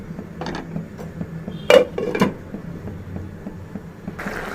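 A metal lid set onto a cooking pot of cauliflower and green pea curry, giving a couple of clanking clinks amid light kitchen clatter.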